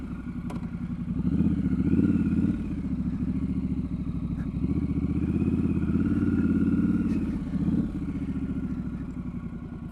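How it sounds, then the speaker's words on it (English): A Triumph Scrambler 1200 XE motorcycle rumbles steadily while riding, its low engine note swelling and easing with the throttle, close and fairly loud, with no talk. "It is a nice bike. Let's go for a ride."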